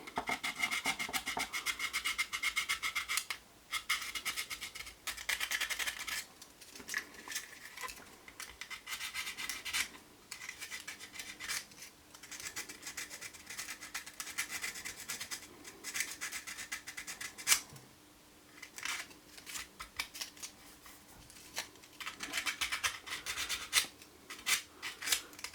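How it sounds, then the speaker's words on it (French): Fine 120-grit sandpaper rubbed by hand over a surface, a continuous dry rasping scratch with irregular strokes and brief pauses, steady and fairly close, no voices. "je vais pouvoir finir le ponçage"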